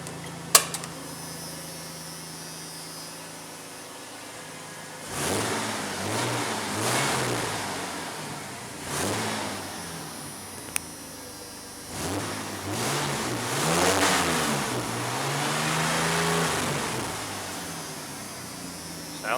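A 1992 Ford F150 pickup that has just had its fuel pump changed idles quietly, then revs up several times in separate rising and falling bursts before dropping back to idle, heard from nearby.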